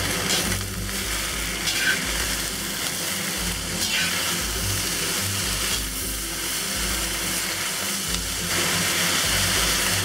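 Taiwanese spinach leaves stir-frying in a pan, a steady broad sizzle with low rumbling bursts as the greens are tossed, continuous and fairly close throughout.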